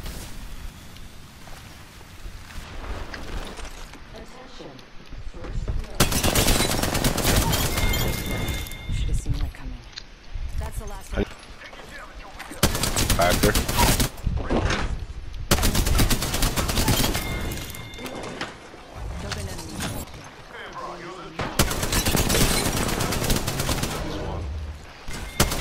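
Video game gunfire in long, loud automatic bursts, several sustained volleys separated by quieter gaps across the stretch, close and dense, with a player talking between and over the shots.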